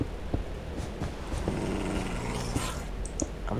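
Dog growling in the Minecraft video game, a low, continuous rumbling growl at moderate level with no speech over it.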